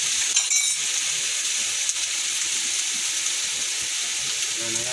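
Garlic shrimp in a hot pan sizzles and hisses steadily as water is poured in, a dense continuous frying crackle with a brief clink, close and alone without talk.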